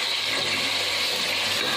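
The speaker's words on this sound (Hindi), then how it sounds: "चिकन को हम इसके प्याज के साथ ही फ्राई करेंगे।" Chicken pieces fry with golden onions in a pot for spicy chicken pulao, a loud, continuous close-up sizzle with no voices.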